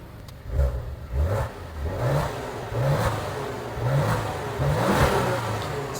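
A wrecked Maserati's engine is revved repeatedly in several quick throttle blips, each rising and falling in pitch over a steady idle, fairly close and with no talk.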